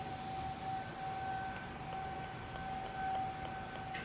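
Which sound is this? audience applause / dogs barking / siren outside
siren outside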